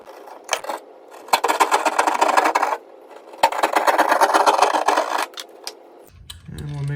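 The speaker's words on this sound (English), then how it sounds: "So now we will just simply cut out the box on lines." Drywall saw or oscillating cutter opening an electrical outlet box hole in an existing wall, two sustained bursts of rasping cutting separated by a pause, with clicks and a low hum at the end.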